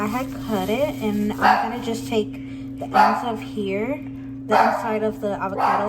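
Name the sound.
dog barking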